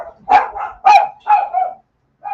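Several dogs bark in a quick series of sharp, loud barks close by, followed by a short pause and one more bark.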